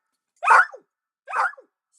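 A dog gives two sharp, separate barks about a second apart, loud and close, with silence around them.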